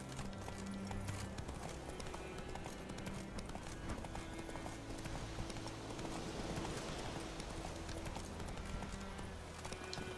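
Hooves of the horse Roach clip-clop in a steady gallop in The Witcher 3, faint and continuous beneath a dense wash of game sound.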